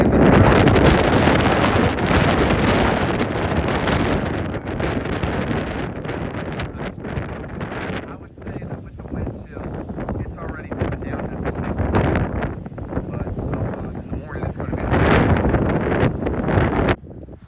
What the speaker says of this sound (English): the wind gusts have probably been around 40 miles per hour so far